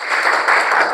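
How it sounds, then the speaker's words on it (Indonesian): Classroom applause for a student, a steady patter of clapping hands filling the full second at moderate loudness with no voice over it. "Tepuk tangan untuk Aira."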